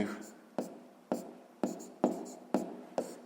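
Pen or pencil strokes on paper while working a sixth-grade maths exercise, about seven sharp, evenly spaced scratches heard close up, each fading quickly.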